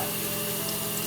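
Water runs steadily over a Damascus steel kitchen knife blade during a rinse, a brief, constant splashing flow close by.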